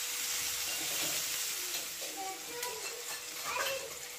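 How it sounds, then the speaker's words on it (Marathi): Onions and tomatoes sizzle steadily in a hot pan while cooking, a constant close frying hiss with occasional soft stirring scrapes and small pops underneath. "टोमॅटो सुद्धा आपण मऊ पडेपर्यंत शिजवून घेऊया."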